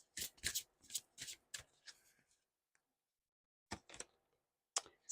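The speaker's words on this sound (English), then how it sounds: "I'm going to go ahead and get another oracle card or two before we go into tarot." Oracle cards are shuffled by hand in quick bursts of riffling and slapping, near and fairly quiet, with short pauses of silence in between.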